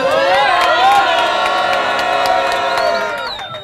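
Simba football club fans at a rally in Pugu Kinyamwezi shouting and cheering together, a loud, dense crowd roar with whoops that holds steady and then fades slightly toward the end.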